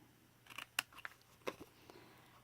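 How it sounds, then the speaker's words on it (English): Scissors snip away the corners of a paper scrap for a mini scrapbook journal, giving a few faint, quick clicks and cuts close by in a quiet room. "You're going to cut those corners away."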